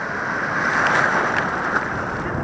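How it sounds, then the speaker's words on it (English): Ocean surf rolling onto an Alaska beach with near-freezing water, a steady broadband wash of breaking waves mixed with wind buffeting the microphone, loud and continuous with no voices. "Better to be in the surf, in the waves,"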